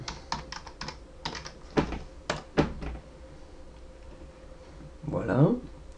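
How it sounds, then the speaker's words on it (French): Someone types a password on a computer keyboard, close and fairly loud, with quick bursts of key clicks, then a pause and a short stretch of speech near the end. "je vais mal taper le mot de passe"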